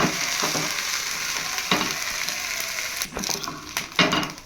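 A green gram and onion uttapam fries in oil on a hot pan with a constant close sizzle, broken by a few sharp scraping and flipping knocks near the end.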